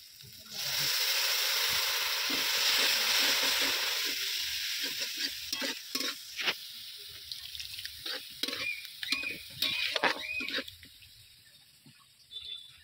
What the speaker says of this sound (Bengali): জল দিয়েও খুব ভালো করে কষিয়ে নেব